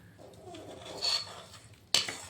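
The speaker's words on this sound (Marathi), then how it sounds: "यामध्ये आपण जो मसाला बनवून घेतलेला आहे तो मिक्स करून घेऊया" A spoon stirs homemade spice masala into a batch of raw mango pickle, scraping and clinking against the bowl with soft shuffling, then a sharper metallic clatter near the end.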